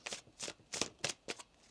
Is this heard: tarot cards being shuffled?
yes